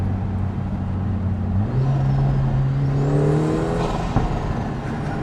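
Lotus Emira Turbo with windows down, its engine rising in a loud rev that climbs and holds strong, steady tone close by with wind and road rush around it.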